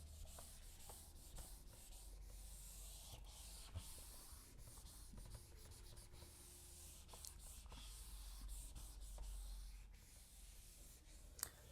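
A board is erased in a maths classroom with repeated rubbing and scraping strokes, soft and fairly close, in an irregular rhythm with brief pauses.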